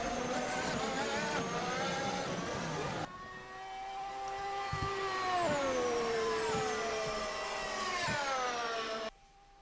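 Race cars at Monza in a racing game, high-revving engines whining steadily then sweeping down in pitch as they brake and downshift for the first turn, loud and close, with a sharp cut at the end.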